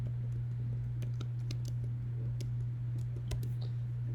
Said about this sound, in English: So I'm going to go ahead and type something in here.